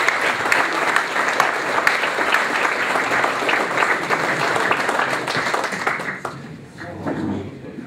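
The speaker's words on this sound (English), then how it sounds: "So I'd like to give Christine a round of applause there," At an awards night, a crowd applauds loudly and steadily in a thick burst of clapping for several seconds before it thins and drops away, with a few voices rising near the end.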